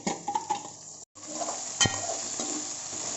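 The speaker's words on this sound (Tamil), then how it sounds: "இஞ்சி பூண்டு பேஸ்ட் போட்டுட்டு நல்லா மிக்ஸ் பண்ணி விட்டுக்கோங்க." Ginger garlic paste being stirred and frying in hot oil in a pan for chicken gravy, a soft continuous sizzle with scraping stirring strokes and a sharp utensil knock against the pan.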